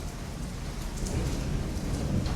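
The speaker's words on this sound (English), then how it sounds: "Hear that thunder in the background?" Steady rain pours down around an outdoor charcoal barbecue grill, with a low rumble of distant thunder rolling beneath the continuous patter, no voices.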